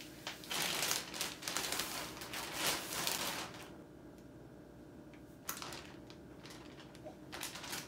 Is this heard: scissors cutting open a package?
yes